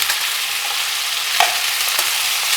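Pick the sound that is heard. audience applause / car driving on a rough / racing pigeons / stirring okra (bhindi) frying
stirring okra (bhindi) frying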